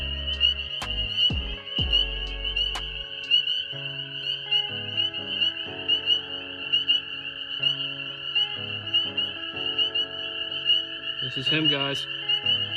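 Gray tree frogs call in steady, high trilling pulses that carry on nearby through the whole stretch. A person speaks briefly over them, and there are a few handling knocks early on.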